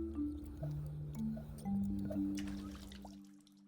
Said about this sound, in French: Puisez l'eau.